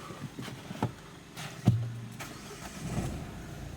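Renault Megane 3 with a 1.5 dCi diesel engine, running after a battery negative-terminal fault was fixed; a steady low engine drone continues throughout with a few sharp clicks and a brief thump near the middle.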